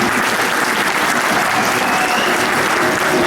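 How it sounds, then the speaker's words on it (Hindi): A crowd at a tribute concert breaks into loud, full applause, a thick, continuous roar of many hands clapping at once that stays steady from start to finish. "ज़रा भरपूर तालियों में आप करेंगे"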